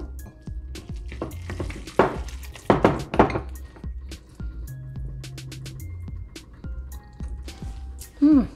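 Ramen noodles are stirred with sriracha in a bowl, with wet squishing, scattered clinks of utensil on dish and a few louder sloppy stirring bursts, while a person talks in between.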